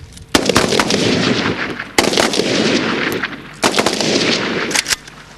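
Rapid bursts of live-round gunfire at a training exercise crack out loudly in three long volleys, dense overlapping shots with brief pauses between them, no voices.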